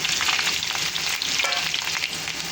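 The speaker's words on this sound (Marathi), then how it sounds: "लसूण थोडा परतला का मग त्याच्यामध्ये दोन मिरच्या बारीक कट करून टाकायच्या" Garlic, chopped green chilies and grated ginger frying in oil, a loud, dense, crackling sizzle that runs without a break from start to finish.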